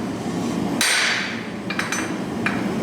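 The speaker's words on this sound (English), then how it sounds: "why are you striking one hammer with another?" During forging, one hammer strikes another in a single sharp metallic clang that rings briefly, followed by a few lighter, quicker taps, close and loud with no voices.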